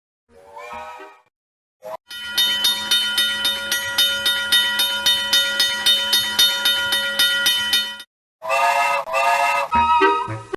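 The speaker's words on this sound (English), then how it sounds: "You are a fast little train." In the PC video game Tootle, a little cartoon train chugs with a rhythmic, steady puffing beat and musical tones for several seconds, loud and close, framed by brief snatches of voiced game dialogue.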